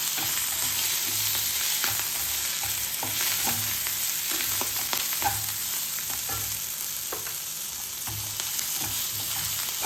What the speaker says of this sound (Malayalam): ഇനി എല്ലാം കൂടെ ഒന്ന് ഇളക്കിയിട്ട് ഒന്ന് സ്റ്റവ് ഓഫ് ചെയ്യാം